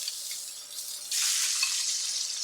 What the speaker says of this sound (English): So I'll be putting in my shrimp.